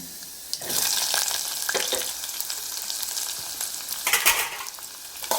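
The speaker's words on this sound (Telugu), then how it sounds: "ఇప్పుడైతే ఇంకా ఆనియన్స్ అయితే వేసుకుందాము" Onions hit hot peanut oil in a pan with a loud, close sizzle, and the crackling swells and fades as they are stirred, with utensil scrapes and a second burst of frying near the end.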